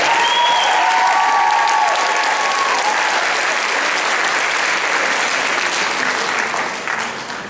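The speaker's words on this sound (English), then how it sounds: "please, also a round of applause for our percussion section" A high school Christmas concert audience applauds the percussion section, a loud, dense wash of clapping sustained throughout and easing slightly at the end.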